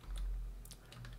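A computer keyboard is typed on in a short, quiet burst of a few scattered clicks, close up over a low background hum.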